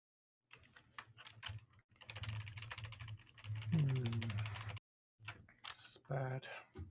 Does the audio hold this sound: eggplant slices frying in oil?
no